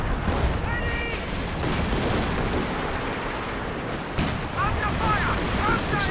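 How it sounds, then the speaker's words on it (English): Anti-tank gun fire in the Company of Heroes 2 war strategy game, a sharp report rising out of dense battle noise of gunfire and explosions, with a second shot soon after, all under steady commentary. "Takes a shot from the AT gun."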